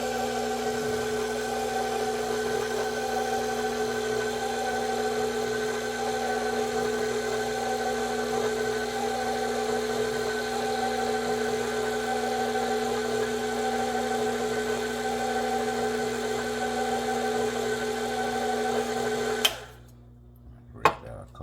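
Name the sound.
electric mixer running on first speed, mixing cake batter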